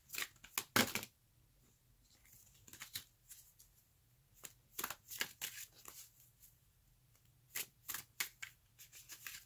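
A deck of tarot cards is shuffled and cut, giving quiet, close bursts of riffling and snapping card edges separated by pauses of near silence.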